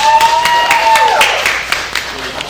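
Audience clapping hands during a live interview, a brief burst of scattered claps mixed with voices and sustained tones, fading within a couple of seconds.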